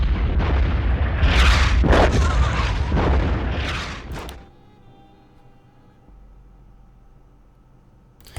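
Artillery fire in the World War I strategy game Commander: The Great War on the Italian front: a loud run of overlapping booms and blasts for about four seconds, then a low rumbling fade with no speech.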